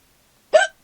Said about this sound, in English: I got hiccups, man.